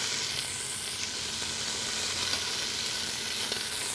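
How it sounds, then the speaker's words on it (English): Turkey pieces sear in a hot pan with a steady, dense sizzle that holds for several seconds, broken by a few faint clicks, with no talking. "we're gonna get these pieces in here to begin to sear"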